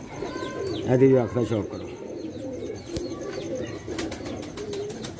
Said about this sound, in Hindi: मोतियां वाला कबूतर